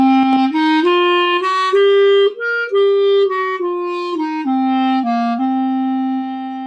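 A solo clarinet plays a stepwise C Dorian scale up and back down in a lilting long-short swing rhythm, clear and close, with no talking.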